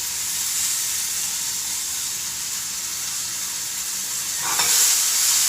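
Golden brown potatoes and tomatoes fry in a pan for a potato omelette, giving a steady close sizzle and hiss, with a brief stir and a louder burst of sizzling near the end.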